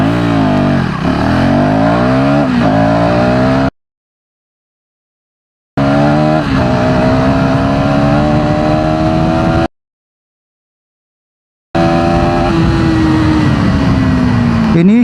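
A 2026 KTM Duke 390 motorcycle with a 349cc single engine accelerates hard through its gears, loud and close, its revs rising and dropping with each shift across several runs separated by gaps of silence.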